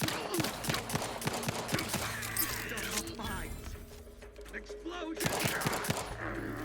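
Combat in Outer Worlds 2 erupts with rapid bursts of gunfire and sharp explosive cracks, dense at first, thinning in the middle, then flaring again, with voices talking over it.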